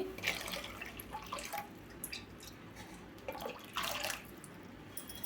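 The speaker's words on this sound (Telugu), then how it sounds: "ఒక్కసారి ఇట్లా మళ్ళీ కలుపుకొని ఈ పంచదార వాటర్లోనైతే పోసుకోవాలండి" Cornflour mixed with water is poured into sugar water in a pan for Karachi halwa, giving soft splashing, trickling and gurgling bursts, close but faint, with quiet gaps between them.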